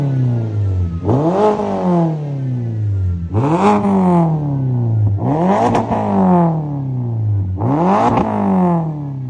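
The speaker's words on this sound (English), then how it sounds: "it's got the revs now, it's letting it rev out" A BMW 116 trophy race car with a straight-pipe exhaust revs hard four times, each loud rising blip close by, followed by a falling drop back toward idle, with no talk.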